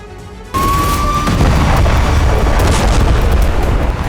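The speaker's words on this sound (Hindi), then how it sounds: "दक्षिणी लेबनान में हो रहे विस्फोट" Heavy explosions in southern Lebanon during the Israel–Hezbollah war erupt suddenly into a loud, sustained roar of rumbling blasts and crackling debris, with a brief high whistle at the onset.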